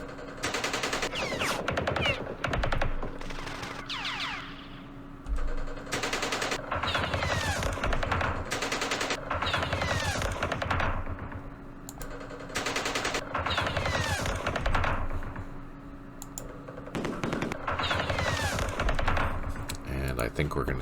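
Mortar and gunfire from the Campaign Series Vietnam war game during the Battle of Hue, as bursts of rapid, loud firing come in repeated clusters over a steady background hum.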